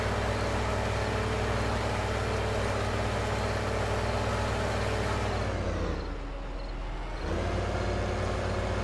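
A John Deere 7310R tractor engine in Farming Simulator 15 drones at a steady high pitch, dips briefly as revs drop, then climbs back; the game sound plays loud and alone.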